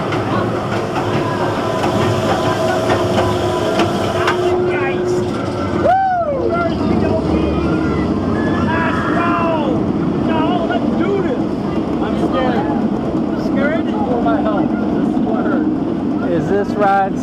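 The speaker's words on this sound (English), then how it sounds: "we're going to go back around for another ride on Alpengeist, back row ride this time" Riding the back row of the Alpengeist roller coaster at Busch Gardens Williamsburg brings a continuous rumbling roar of the train on its track. Rattling and whooshing passes sit under loud rider voices and screams throughout.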